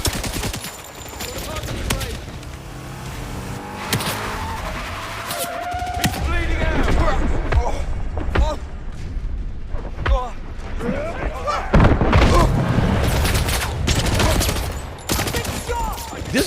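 Explosions and bursts of gunfire from a video game demo, loud and dense, with booming blasts and rattling shots under ongoing talk.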